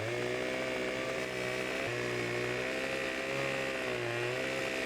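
A chainsaw cuts into a tree in the Farming Simulator 17 video game, its engine buzzing steadily with brief dips in pitch as the blade bites, fairly faint and uninterrupted by speech.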